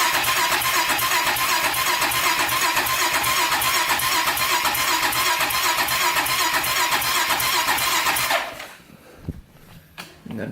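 A Honda 400ex quad engine cranks over without starting, a loud rapid rhythmic churning lasting about eight seconds before cutting off abruptly, followed by quiet clicks and faint handling sounds.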